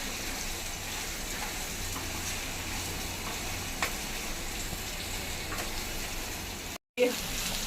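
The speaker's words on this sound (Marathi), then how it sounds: "आता हे आपण कैरी चांगली ह्या ह्याच्यात परतून घेऊया" Raw Totapuri mango pieces sauté in a pan with a continuous, fairly quiet sizzle and light stirring, steady throughout apart from a brief dropout near the end.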